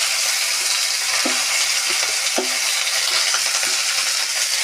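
Chopped onion with ginger and green chilli frying in a pan, a continuous close sizzle with a few light metallic taps of a spatula against the pan scattered through it.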